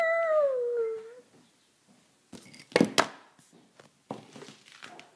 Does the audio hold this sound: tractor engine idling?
no